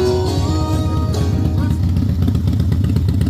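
A motorcycle rolls in close by with its engine rumbling steadily in a loud, pulsing low drone, with a brief rising rev partway through and nobody speaking.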